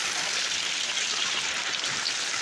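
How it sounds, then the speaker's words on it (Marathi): Heavy rain pours down in a steady, dense hiss, loud and unbroken throughout, with no voices. "बघू शकता पूर्ण जोरदार पाऊस आहे"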